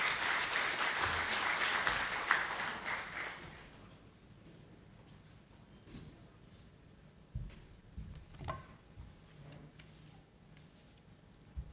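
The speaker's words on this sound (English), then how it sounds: "Please give him a warm round of applause." Applause from a military audience at an Armed Forces of the Philippines event welcomes a lieutenant general to the stage, loud for the first few seconds, then thinning into scattered claps and small knocks in a quiet hall.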